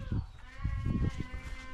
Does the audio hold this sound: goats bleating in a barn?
yes